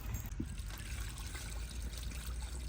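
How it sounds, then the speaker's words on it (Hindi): Water trickles and pours steadily into a cooking pot of cauliflower and potatoes for aloo gobi, a close, continuous liquid sound with no talking. "थोड़ा सा पानी डालते हैं।"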